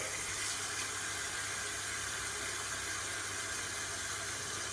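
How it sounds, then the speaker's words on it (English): Water running from a tap into a plugged kitchen sink for a light fill, a steady, soft, continuous hiss with no breaks. "Just a light fill of the sink, keep the plug in there."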